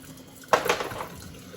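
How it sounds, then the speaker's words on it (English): Tap water splashes over raw baby back ribs at a sink in a brief, close burst of rushing and spattering that lasts about a second after a quiet lead-in. "Sometimes when I wash my ribs"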